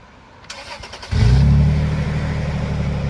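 A Toyota FJ Cruiser engine cranks briefly with a few clicks, then starts and settles into a loud, steady idle with a low rumble and faint rattling from a newly developed noise.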